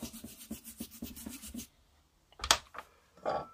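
Oxidized ignition breaker parts from a 103 moped are rubbed with a scrap of sock used as a rag: quick, rhythmic rubbing strokes up close, then a pause and a few sharper handling clicks.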